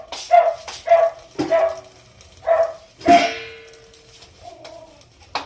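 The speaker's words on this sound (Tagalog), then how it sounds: "Ingay na naman ang aso." A dog barks about five times in short, sharp bursts at uneven intervals nearby, followed by a fainter drawn-out whine at the end.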